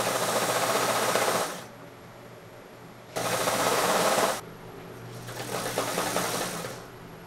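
A sewing machine stitches a straight seam on wide-leg trousers in two loud, close, steady whirring runs separated by pauses, followed by a quieter, slower stretch of stitching at the end.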